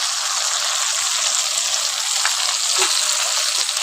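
Chopped tomato fries in a pan with ginger, green chili and cumin pastes for a yam kofta curry, giving a loud, steady, close hiss of sizzling oil throughout with one faint clink and no voices.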